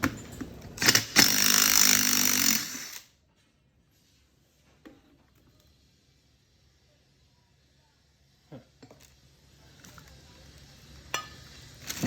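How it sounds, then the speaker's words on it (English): An impact wrench fitted with a 13/16 chrome socket gives one loud, dense burst of hammering for about two seconds near the start, then drops to near silence with only faint shop clatter and handling noises later. "(13/16). I know, chrome socket on an impact."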